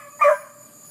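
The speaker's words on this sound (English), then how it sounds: "dog's barking on me" A single short dog bark heard alone on a farm, fairly close and clear against a quiet background.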